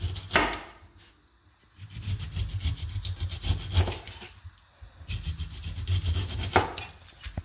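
A knife slices the thin skin off an Eleuthera pineapple as the fruit is rolled, giving rough, scraping cuts in two longer bursts with short pauses between, close and fairly loud with no talking.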